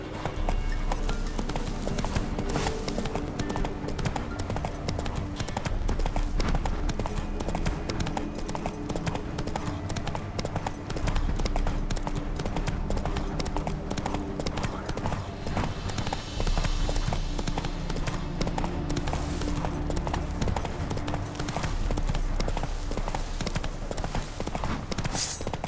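Horse hooves clip-clop in a steady, continuous trot throughout a Witcher 3 Wild Hunt gameplay scene, moderately quiet with faint game ambience beneath.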